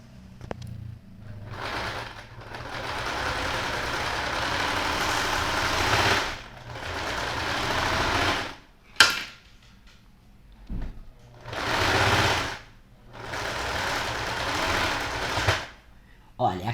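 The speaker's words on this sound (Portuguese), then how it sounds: "E aí eu vou passar uma costura na volta inteira da bolsa." A sewing machine stitches around the edge of a small children's felt bag in several sustained runs separated by short pauses, loud and close, with someone talking between and during the runs.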